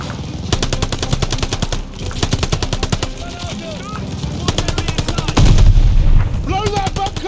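Rapid machine-gun fire rattles loud and close in continuous bursts during a 1944 D-Day Operation Tonga battle in a PS5 video game, with heavier thuds and impacts mixed in. Shouting voices cut through the gunfire.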